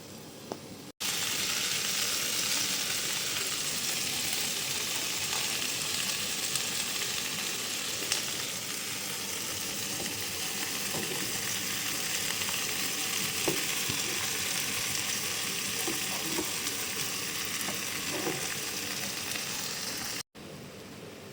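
Continuous sizzling of vegetables added to a pan after frying potatoes, a dense steady hiss with occasional faint pops and utensil scrapes throughout.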